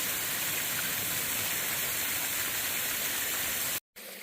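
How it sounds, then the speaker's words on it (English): Steady rushing water from a small waterfall on the Appalachian Trail, a continuous close splash and hiss that cuts out abruptly near the end. "Little water feature."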